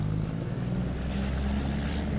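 T800 truck mod driving in a simulation game, its engine a steady low drone with a faint high whine running throughout, loud and close with no talk.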